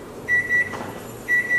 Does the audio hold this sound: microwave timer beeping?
yes